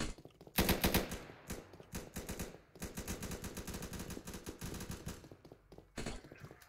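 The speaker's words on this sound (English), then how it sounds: "喂，嗰边有人射我哋嘅嘛" Rapid automatic gunfire in the video game Blackhawk Rescue Mission, dense bursts of shots with a loud opening volley and steady rattling fire continuing throughout, mixed with impacts and battle noise.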